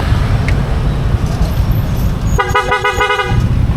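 A single car horn blast of about a second cuts through rumbling traffic in a road jam on an unfinished street, a low engine and road drone running beneath it.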